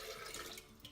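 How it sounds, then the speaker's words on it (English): Water pouring into a shaker cup, about 200 millilitres for a peanut butter and vanilla protein shake; a steady, close, noisy splashing stream that fills the whole second with no talk. "the first thing I'm going to do is pour 200 milliliters of water into here"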